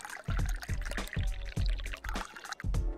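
Liquid pours into a glass in the video game Dave the Diver, a series of gurgling glugs and splashy bursts in an uneven rhythm, loud and close, no talking over it.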